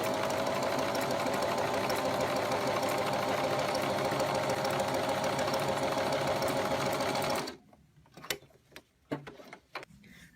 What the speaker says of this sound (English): so we can just start to sew.